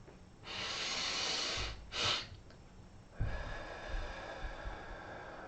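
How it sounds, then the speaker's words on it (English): Forceful sniffs through the nose in a stress-reducing breathing exercise: one long big inhale, a short second sniff right after, then a quieter steady breathing hiss, close to the microphone with no talking. "Big sniff, little sniff."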